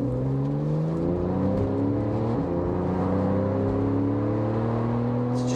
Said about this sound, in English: it's throttling so quickly, and I would not think that I was driving a Carrera S with that race chip installed